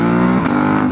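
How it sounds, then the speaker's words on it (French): A KTM 890 Rally motorcycle accelerates with a loud, steady engine roar that rises in pitch. Its tone shifts a little partway through, and there is no talking. "On va faire encore une petite accélération."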